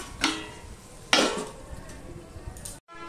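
A spoon clinks and scrapes twice against a pan while tomatoes are stirred for Bengali pabda fish tel jhal, with a soft sizzle underneath and a lid set down at the end.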